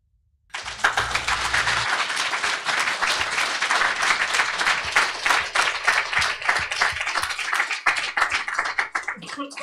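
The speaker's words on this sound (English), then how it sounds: "Didn't get the mute off in time so you could hear all the applause in the room." Loud, sustained applause from an audience filling a room at a personal AI summit, dense clapping that starts abruptly and continues steadily throughout without speech.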